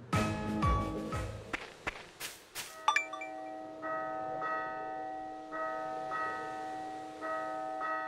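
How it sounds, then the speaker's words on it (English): A town bell rings in the video game Lost Sphear, with repeated clear metallic tolls at a steady pace after a few brief knocks and steps, alone and moderately loud. "Is that the bell?"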